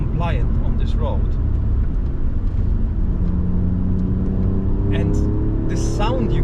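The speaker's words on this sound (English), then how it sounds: "the sound you're getting from the engine, from the exhaust, I believe it's probably all organic" An Alfa Romeo Giulia Quadrifoglio's engine and exhaust hum steadily while driving on the road, a loud continuous drone with cabin road noise, beneath someone talking throughout.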